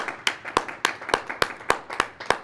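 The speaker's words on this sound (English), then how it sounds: "Can I get a round of applause for Andrew?" A handful of people at a town hall event clap slowly and unevenly, a sparse string of distinct, fairly close claps about every quarter second rather than a full crowd ovation.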